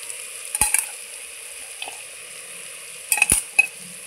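Chopped onions fry in a pan for a potato dish, a low steady sizzle broken by a few sharp spatula clicks and scrapes against the pan as they are stirred.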